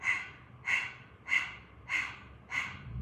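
Puppy breath, a rapid panting breath used in Kundalini yoga: five sharp, breathy exhalations come in a steady rhythm about every half second, close and fairly loud, with no talking.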